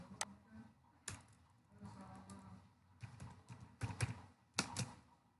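Code goes into a computer keyboard in irregular bursts of clicky keystrokes, close and fairly quiet, separated by short pauses, with no speech.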